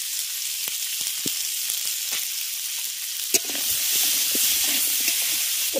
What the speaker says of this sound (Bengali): এবারে পেঁপে আলু দিয়ে এগুলোকে একটু ভালো করে ভাজা ভাজা করে নিই।